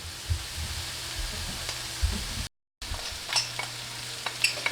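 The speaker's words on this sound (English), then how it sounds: "they've been cooking now, sauteing for about 5 minutes" Vegetables sautéing in a pan for an Indian dish, a steady close sizzle with periodic scraping stir strokes, briefly cut off by a moment of silence before the frying resumes.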